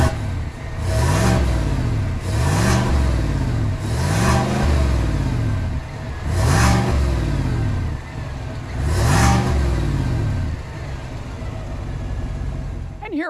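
A 5.3-liter V8 under the hood is blipped about six times in a row, each rev swelling and dropping back to idle, loud and close.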